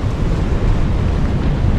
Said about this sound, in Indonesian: Kondisi spot angin cukup kencang, berombak dan airnya keruh